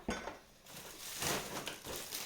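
Dishes and cutlery clatter and clink in a kitchen while groceries from an ALDI shop are put away, a steady run of close scraping and knocking with several sharper clanks.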